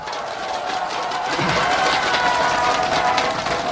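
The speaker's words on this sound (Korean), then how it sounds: "박수로 맞이해 주십시오" At a Democratic Party presidential campaign rally in Daegu, a large outdoor crowd applauds a committee chairman: steady, dense clapping that swells slightly and holds loud, with faint cheering mixed in.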